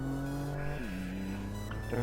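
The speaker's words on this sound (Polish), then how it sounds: "jedziemy w sumie moim autem" A car in the Need For Speed San Andreas game hums with a steady engine tone that dips as it shifts, then climbs again, close and fairly quiet, with no talking.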